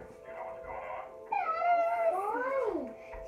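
A dog whines for attention in drawn-out, rising and falling high whimpers, close and fairly soft, after a short stretch of quieter murmuring sound.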